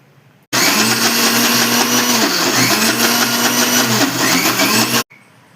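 A mixer grinder grinds adai dosa batter, whirring loudly and steadily for several seconds, its motor pitch dipping briefly midway, then cuts off abruptly into silence.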